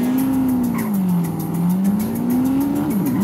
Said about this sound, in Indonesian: You must get to the diner and hijack that truck.